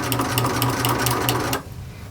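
A sewing machine stitching a crocheted pumpkin pillow, a fast rhythmic mechanical chatter of needle strokes running close and steady for about a second and a half, then stopping abruptly.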